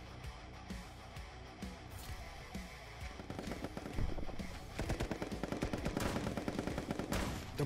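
Rapid gunfire bursts from the party video game Pummel Party, where a player fires a shotgun, building into dense, loud crackling volleys layered over busy game music and effects.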